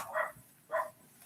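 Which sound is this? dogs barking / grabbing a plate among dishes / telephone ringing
dogs barking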